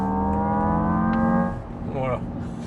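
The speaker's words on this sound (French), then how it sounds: "Ça fait un bruit de thermique, mais bizarre quand même" A Zeekr 7X electric SUV playing a simulated combustion engine sound, a synthetic harmonic engine tone that holds steady and then drops off, with a brief warbling rise near the end.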